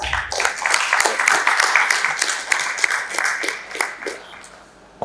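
An audience applauds steadily at a startup pitch event, dense clapping filling the room for several seconds before gradually thinning out and fading.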